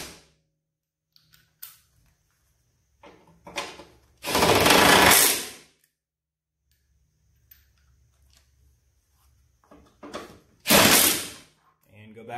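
Bolts being run back into the side of a Craftsman lawn mower, heard as two loud, close mechanical bursts of driving, several seconds apart, with quiet handling clicks between.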